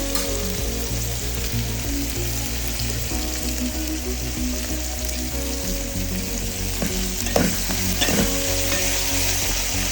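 Spices sizzle steadily in a pan with bottle gourd pieces, brinjal and tomatoes, close and even, with a low hum underneath and a couple of sharper stirring scrapes near the end.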